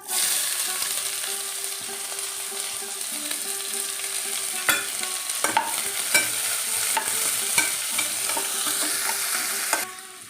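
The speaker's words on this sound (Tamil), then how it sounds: "இப்போ நறுக்கின வெங்காயத்தை போடுறேன்" Chopped onions sizzle steadily in a hot pan with cloves and cinnamon, with occasional clinks and scrapes of a spoon stirring them.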